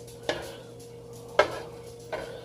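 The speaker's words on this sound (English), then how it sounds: "So you melt these together until they're melted." Apple jelly and asparagus are stirred in a pan, giving three faint, evenly spaced scrapes or taps against the pan over a low steady background, with no speech.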